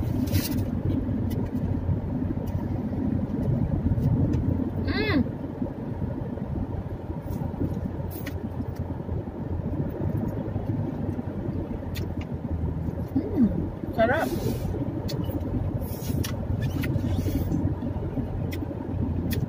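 A car drives steadily throughout, its low road rumble and engine hum constant, with a few faint birdlike chirps and brief clicks overhead.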